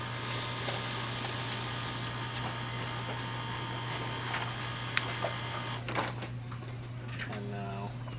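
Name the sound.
HP LaserJet printer printing a document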